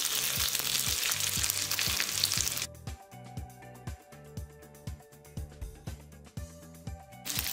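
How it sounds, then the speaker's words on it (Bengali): Rohu fish pieces sizzle in a pan of ghee, a steady loud hiss at first that drops to a quieter spitting crackle with regular pops and stirring taps, no voices. "আমি এই কাজটা করেছি মাছের এই পাশগুলো ভাজার জন্য।"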